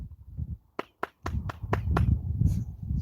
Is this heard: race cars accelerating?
no